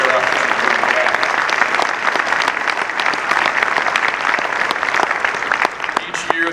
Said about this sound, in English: Please give our event staff and convention committee a hearty round of applause for their efforts.